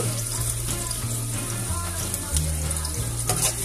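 Onion and garlic sauté in a hot pan for pastil, a steady soft sizzle with a low, even hum running underneath throughout.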